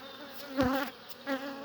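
Honey bees buzzing around an open hive during a summer honey harvest, bees flying close by in two louder swells over a steady background drone.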